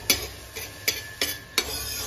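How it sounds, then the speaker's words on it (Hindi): Semolina being roasted in a pan for halwa gets five sharp scraping strokes from a spoon at a roughly steady pace, quiet and close, with no talk. "अभी मैं भून रही हूँ सूजी"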